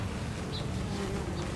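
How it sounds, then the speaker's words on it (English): Honey bees buzz in an open hive during an inspection, a low, steady hum with a couple of brief higher buzzes as individual bees fly close, and no talking. "If you look down there, these bees they're holding together."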